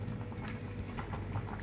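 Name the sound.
sinigang soup with vegetables boiling in a pot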